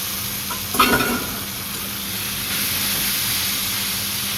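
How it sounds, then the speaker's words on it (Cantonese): Water spinach hits a wok over high heat with shrimp paste and garlic, setting off a sudden loud burst of sizzling that settles into a continuous hissing fry. "倒啲葱菜落去，"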